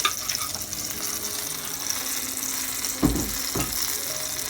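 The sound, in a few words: pancakes frying in a pan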